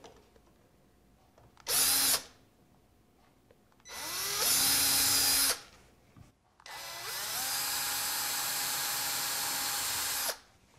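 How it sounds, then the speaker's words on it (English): A power drill whines drilling into wood in three separate bursts, short, then longer, then a long steady run, each spinning up sharply and cutting off, with quiet pauses between. "then drill with the drill bit"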